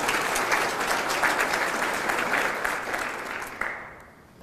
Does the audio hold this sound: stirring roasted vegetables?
no